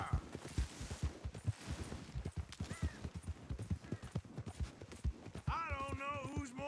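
Galloping hooves drum in a steady, rapid rhythm during a horse race in a cowboy video game. The sound is quiet and continuous, and a brief whinny-like call comes near the end.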